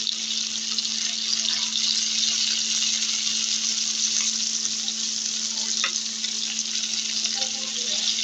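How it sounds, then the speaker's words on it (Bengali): Chicken pieces fry in oil in a kadai, giving a constant close sizzle with faint crackles and a low steady hum underneath, and no voices. "আমার মুরগিগুলো ভাজা হচ্ছে, ভালোভাবে ভেজে নেব।"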